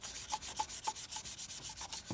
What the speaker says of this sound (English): I can see that I need to sand this a little bit more.